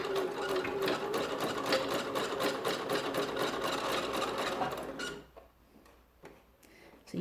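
Sewing machine stitching a row of shirring elastic on lightweight fabric, a fast steady mechanical whirr with ticking stitch rhythm running for about five seconds, then stopping to leave near quiet with a few faint clicks.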